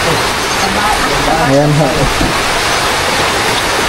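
Heavy rain pours down in a dense, loud hiss that stays steady throughout, with a brief voice speaking under the downpour.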